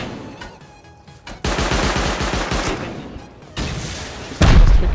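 Video game gunfire from Rust as a player shoots up twig walls during an online raid: loud bursts of rapid automatic shots that stop and restart, close and harsh, ending in a heavier blast.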